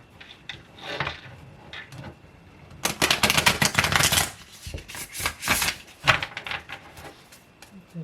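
Tarot cards shuffled by hand in a quiet room: soft papery flutters and taps at first, then a dense riffling burst near the middle, followed by scattered shorter shuffles and card clicks.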